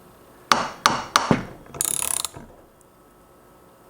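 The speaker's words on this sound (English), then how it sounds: "That's what the bearing sounds like when it's being pulled away from its" A crankshaft bearing being pulled off a Honda Dio scooter engine makes a few sharp metallic ratcheting clicks, then a brief grinding scrape as it comes free, close up with no talking.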